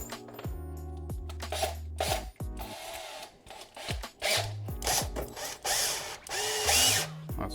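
A power drill bores holes in supports for homemade ice tires for a sports bike, with several short bursts of whirring that rise and fall, broken by brief pauses and scraping handling noises, close and fairly loud.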